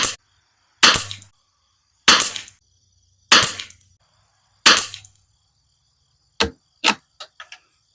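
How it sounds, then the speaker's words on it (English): Rifle fitted with a heavy barrel tuner firing a group outdoors: five sharp, loud cracks spaced about a second and a quarter apart, each with a short decaying tail, followed by a few fainter distant pops. "We'll do another 5-shot group here."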